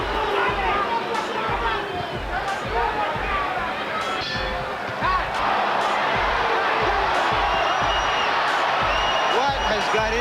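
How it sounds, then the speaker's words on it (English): Large arena crowd at a 1987 Mike Tyson versus James Smith heavyweight boxing fight, a loud, sustained roar of booing and jeering that fills the clip with dense, continuous noise. "you hear the crowd start to boo"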